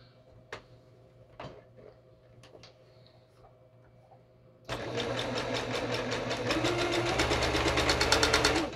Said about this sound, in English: we're gonna go ahead and sew this whole big long strip with a 1/4 inch seam allowance.